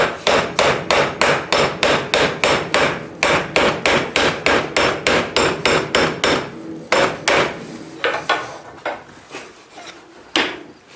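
A straight peen hammer forging bolt jaw tongs, striking metal on an anvil in a fast, loud, even rhythm of about three blows a second, then slowing to scattered hits before stopping.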